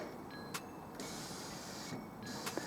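A Canon Pixma MG5750/MG5751 inkjet printer stirs after its cover is closed, giving a faint steady mechanical hum with a couple of thin, short tones and soft clicks, quiet and alone.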